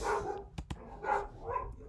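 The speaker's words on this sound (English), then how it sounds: "Oh, that's my dog." A dog gives a couple of short muffled barks indoors, not far away, with a few sharp knocks in between.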